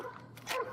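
A police K9 dog gives a short, faint bark or yip at a distance during a standoff, brief and quiet against background noise.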